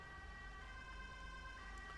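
An ambulance siren in the game GTA 5 wails steadily and continuously at a constant loud level, with a faint low vehicle rumble beneath and no talking.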